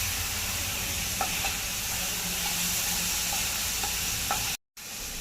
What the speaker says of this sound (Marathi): दोन मिनटं कांदा परतून घ्यायचा